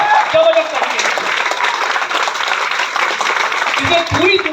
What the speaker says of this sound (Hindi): जोरदार तालियां होनी चाहिए, जबरदस्त तरीके से